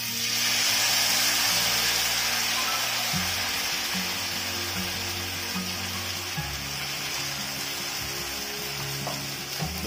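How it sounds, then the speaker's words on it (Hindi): Bottle gourd and wheat flour batter spread onto an oiled griddle gives a loud, steady hiss of frying, with a low hum underneath and no talk. "1 चम्मच की सहायता से हम ये घोल तवे में डाल देंगे"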